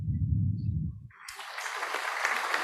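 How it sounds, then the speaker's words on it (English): An audience applauding at the close of a talk at a hackcamp event, a sudden burst of clapping that starts after a voice and carries on steadily to the end. "Getting a round of applause."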